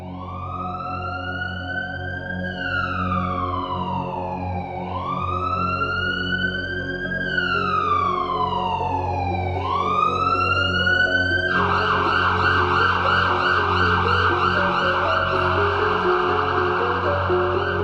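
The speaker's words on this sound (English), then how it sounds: "Then finally, siren." A loud wailing siren sweeps up and down in slow repeated cycles, then switches to a rapid warbling yelp, with steady engine-like rumble beneath.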